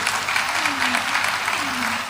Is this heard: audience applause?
yes